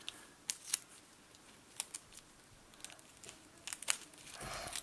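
Adhesive tape being handled to make a candy-shaped craft packet, quiet crinkling and sharp peeling snaps in scattered bursts, ending in a longer tearing rip, close up.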